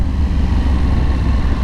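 A Yamaha MT-10 motorcycle engine pulls under load while riding, a loud, steady low-pitched roar with a throbbing rumble that holds constant for the whole moment, without talk.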